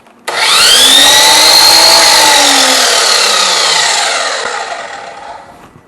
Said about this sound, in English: we'll go ahead and turn on this saw over here